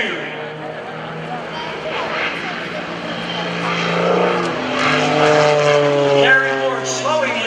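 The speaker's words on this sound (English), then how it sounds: "Airplane down, rolling to inverted." An MX-2 aerobatic propeller airplane drones at the 2015 Greenwood Lake Airshow as it rolls to inverted. The engine note rises and swells under an announcer's steady commentary.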